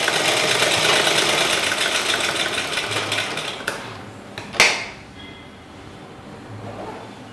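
A sewing machine stitches a chudithar shoulder seam in rapid rhythmic clatter for nearly four seconds, then stops with a couple of sharp clicks before quieter handling noise.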